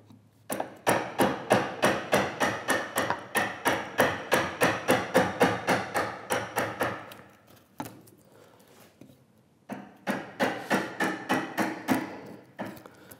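A chisel is struck repeatedly with a mallet to trim the top edge of a wooden workbench, giving sharp, evenly spaced knocks close by in two bursts separated by a short pause.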